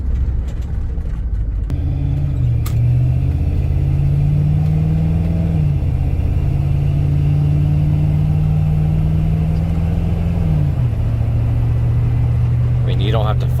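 A 1991 Chevrolet C/K pickup truck engine hums steadily while driving, a loud continuous low drone that shifts pitch briefly as it changes speed, with road noise throughout.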